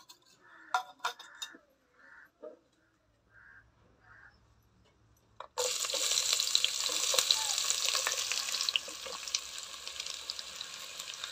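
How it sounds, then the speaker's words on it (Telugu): Thinly sliced onions hit hot oil and ghee in a pan and burst into a loud, steady sizzle after a few seconds of soft, quiet kitchen sounds, frying continuously close up. "నూనె వేడెక్కాక సన్నగా కోసుకున్న ఉల్లిపాయలు వేసుకొని"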